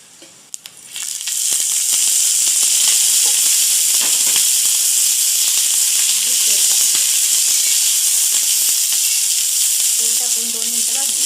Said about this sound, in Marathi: तेल टाकून 2 मिनिटं भाजून घ्यायचं.